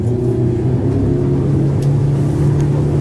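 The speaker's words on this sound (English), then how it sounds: "put those throttles down and see what kind of poke we're playing with" A Finnmaster Pilot 8 Tour motor boat accelerating under throttle, a steady loud low engine rumble close by with no talk.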